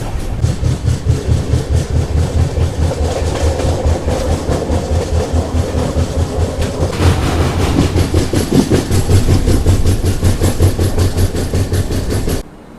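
The Kerala SF Express, train 12625, rolls loudly through a curve near Chengannur with steady rhythmic clickety-clack of wheels over rail joints and a continuous heavy rumble, close and sustained until it cuts off abruptly.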